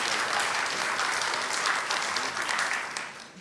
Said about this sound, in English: Let's give Mr. Lamanna a great round of applause.